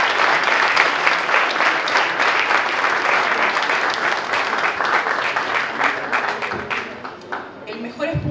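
Audience at the Catad'Or ancestral wine awards ceremony gives sustained, loud applause, thick and even before easing slightly toward the end.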